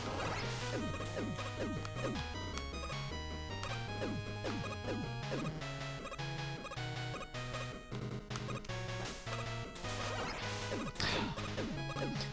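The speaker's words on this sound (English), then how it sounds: "Some of these have little screw stashes in them, which is why I'm blowing them open." Containers blown open in a Mega Man game produce repeated crashing blast effects over busy, loud game music, in rapid irregular bursts.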